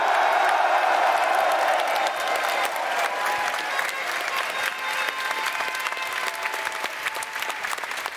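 Loud applause and cheering from a large esports crowd at the Six Berlin Major Rainbow Six Siege grand final, a dense roar of clapping and shouts that stays strong throughout.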